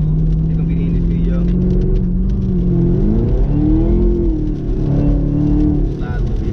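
Chevrolet Camaro ZL1 with a muffler delete accelerating hard, loud close engine drone rising and falling in pitch as it revs through gears, with someone talking over it.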